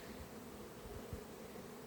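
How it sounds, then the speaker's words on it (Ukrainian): Bees hum around a sunflower field in a low, steady drone, fairly faint and continuous, with a brief louder pass near the middle. "Бджола летить"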